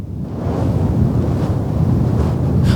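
Strong wind blasts high up at a wind turbine, a loud, continuous roaring buffet that batters the microphone with gusty, rumbling swells throughout.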